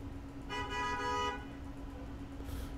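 A single car horn toot sounds in the strategy game Making History, played as Liberia: one clear, moderately loud honk lasting about a second over a faint background hum, with no speech.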